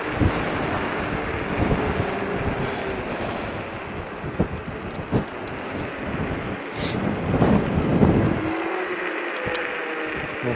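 Loud, continuous wind roaring and buffeting against a microphone while riding a JOYOR S10S-Z electric scooter, a dense rushing noise that swells and gusts throughout without letup.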